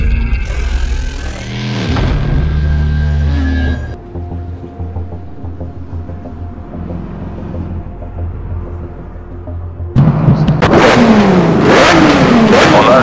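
McLaren F1 engines in the Need for Speed Shift racing game rev loudly at close range, rising and falling pitch sweeps from several cars, a quieter idling stretch in the middle, then a burst of hard revving before the start.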